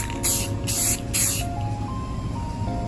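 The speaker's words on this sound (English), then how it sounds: "hit it with some clear coat and call it a day" Three bursts of aerosol clear coat sprayed onto a sanded homemade carbon fiber part, each a loud hissing spray about half a second long, separated by short pauses over a faint steady background hum.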